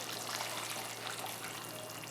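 Water pours into mutton chops frying in a hot pan, producing a dense, steady hiss and sizzle with no pauses over the whole short stretch.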